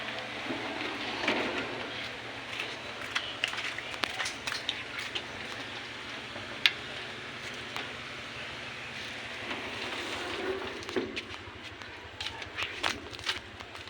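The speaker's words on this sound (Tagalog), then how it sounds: "Maulan ngayon. Sobrang maulan." Heavy rain falls outdoors as a steady, fairly quiet hiss of patter, with scattered sharper drops and small knocks throughout.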